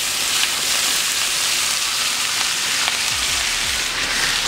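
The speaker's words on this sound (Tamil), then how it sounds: "இது ஃப்ரை பண்ண ஆயிலேயே ஸ்பைசஸ் ஆட் பண்ணிடலாம்" Spices fry in hot oil for an egg pepper fry, making a loud, dense, continuous hiss and sizzle with no voices.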